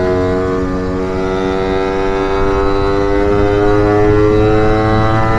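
A steady, loud Lambretta or Vespa scooter engine, an original 150, drones with a strong harmonic hum, running continuously and evenly throughout at a scooter rally.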